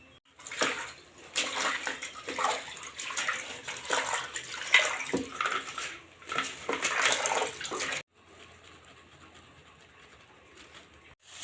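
Water splashing and running while ash gourd leaves are washed by hand, with broadband gushes and splashes through most of the clip, then a quieter steady trickle near the end.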